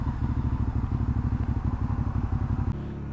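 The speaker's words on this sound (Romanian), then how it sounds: "un sistem care pornește motorul singur pentru tine după ce apeși pe buton" Suzuki V-Strom 650 motorcycle from 2017, started with its Easy Start button: the electric starter cranks in a fast, even rhythmic chug for about two and a half seconds before the engine catches and settles into a steady idle.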